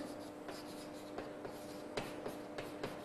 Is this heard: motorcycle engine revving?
no